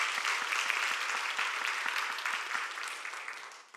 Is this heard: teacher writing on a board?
no